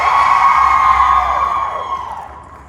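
An audience at a comic con panel in Dortmund screams and cheers in a loud, sustained roar that slowly fades over a few seconds.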